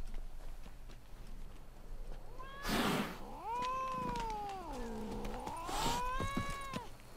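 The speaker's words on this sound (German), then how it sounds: "Rollige Katze oder was?" A cat in The Witcher 3: Blood and Wine meows in long, drawn-out, wavering calls, one after another, with breathy noise bursts between them over a low background hum.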